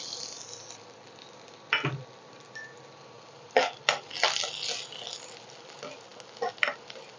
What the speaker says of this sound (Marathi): गरम झालं की आपण हा बारीक चिरलेला लसूण घालूया